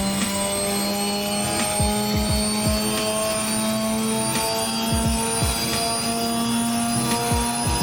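Interior engine sound of a Mazda RX-7 in a driving video game, a sustained high rotary whine with steady harmonic tones and repeated low pulsing bursts, loud and constant with no talk.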